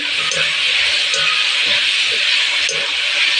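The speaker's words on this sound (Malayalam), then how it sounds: "കൊച്ചുള്ളി ഇട്ട് നന്നായി വഴറ്റണേ." Shallots sautéing in a hot pan for chicken curry, a loud, continuous close sizzle with faint clicks of stirring throughout.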